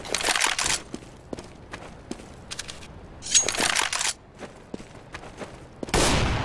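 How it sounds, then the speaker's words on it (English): A flashbang grenade thrown during a CS:GO match: bursts of sharp clicks and a broad hissing pop near the end, over scattered in-game footsteps and gunfire-like clatter. "Throwing flashbang."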